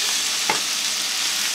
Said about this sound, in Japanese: まあ、あとは炒めるだけやね